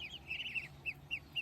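Young pet ducks on a province farm quack in a series of short, nasal calls, a quick burst followed by several spaced single quacks, moderately close with no talking.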